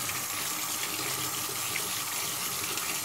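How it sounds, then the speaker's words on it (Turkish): Grape bunches are rinsed under a running tap, a continuous soft splashing gush of water with no talk over it. "üzerindeki tozlar, kalıntılar hafiften gitsin diye şöyle bir suya tutuyorum"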